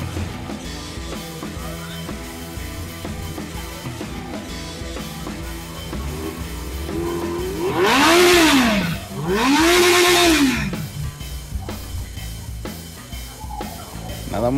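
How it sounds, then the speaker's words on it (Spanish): A Suzuki Hayabusa motorcycle with a 1300 cc engine revs twice in quick succession at a motorcycle expo, each rise and fall loud and close over a steady background of crowd noise. "Nada más ese poderosísimo motor de 1300 centímetros cúbicos."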